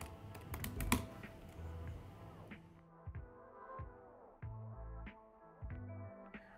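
Keys clatter on a computer keyboard during a software install at a desk, a few quick clustered taps over a low steady hum, fairly faint and alone.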